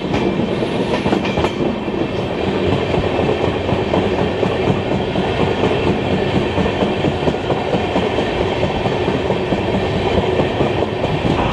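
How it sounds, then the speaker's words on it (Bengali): The Kulik Express rumbles loudly and steadily into Khana station on a monsoon journey, its wheels clattering continuously on the rails throughout with no pause. "ট্রেন ঢুকছে খানা স্টেশনে।"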